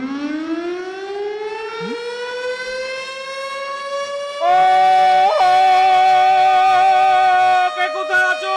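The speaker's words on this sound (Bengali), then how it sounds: "সিস্টেম, লাল বাতি অন কর, সাইরেন বাজা।" A loud wailing siren rises slowly in pitch, then jumps to a louder steady tone that holds to the end, with a brief wobble partway through.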